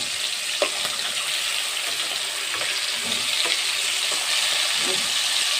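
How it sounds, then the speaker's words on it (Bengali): Hilsa fish fries lightly in a wok with a steady, dense sizzle throughout, broken by a few soft clicks and taps close by. "এটাকে খুব বেশি করে ভাজবো না, হালকা হালকা করে ভেজে নেব।"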